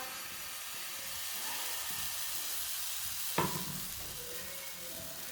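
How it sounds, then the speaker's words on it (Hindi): A spoonful of wheat flour batter sizzles on a hot pan for soft roti, a steady close hiss with a sharp clatter partway through, no talking. "पैन हमारा अच्छी तरह गर्म हो चुका है। अब 1 चम्मच भर के डाल लेंगे आटा।"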